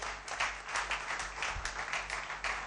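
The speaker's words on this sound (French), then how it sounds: "applaudissez très fort pour Muriel Munga" Audience applause for photographer Muriel Munga at a presentation, a steady wash of many hands clapping that holds at moderate loudness throughout.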